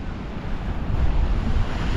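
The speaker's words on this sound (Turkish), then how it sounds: "Bayağı rüzgarlı." Strong wind buffets the microphone on a cold seaside coast, a loud continuous rumbling rush mixed with the wash of waves, swelling in gusts with no voices.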